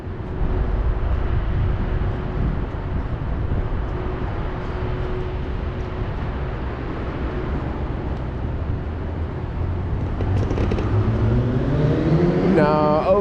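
Street traffic in San Francisco rumbles steadily, a low continuous engine drone with a vehicle passing closer near the end.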